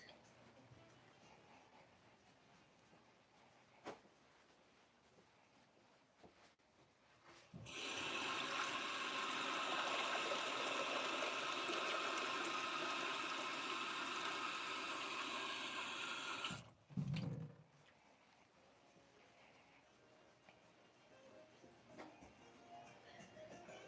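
A tap runs to fill a container with water for starting seeds, a loud steady gushing stream lasting about nine seconds that starts and stops abruptly, with quiet room noise and faint handling before and after.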